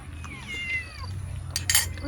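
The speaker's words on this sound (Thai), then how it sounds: "นี่แมว" A cat meows with a drawn-out, sliding cry near a home kitchen, followed by clinking of dishes or cutlery, while a person talks in the background.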